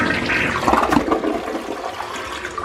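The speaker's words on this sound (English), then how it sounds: "Now that the toilet has stopped running" A toilet flushes close by, a loud rushing swirl of water that peaks early and then settles into a steadier draining gurgle, heard alone.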